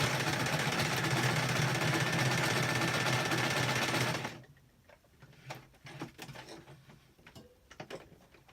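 A fairly noisy home sewing machine runs steadily for about four seconds, used for stitching tiny fabric scraps, then stops abruptly, leaving only faint handling clicks and rustles in a quiet room.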